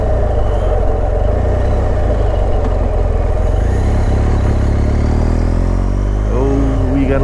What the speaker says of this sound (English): Gotta love a BMW boxer.